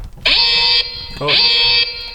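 Two loud, steady electronic alert tones in quick succession from a CarLock phone notification for detected vehicle vibration, each a bright buzzing beep lasting about half a second, close and clear.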